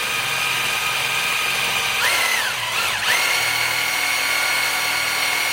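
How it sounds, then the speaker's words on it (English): A power drill driving a step bit through a hole in an AR-15 kit part, steady close whine with the pitch dipping twice as the bit bites into the material and then recovering, no talking. "So we're going to go ahead and begin that with the step bit."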